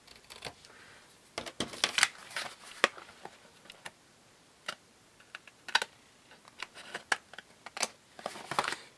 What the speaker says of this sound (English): And then I'm going to cut this off.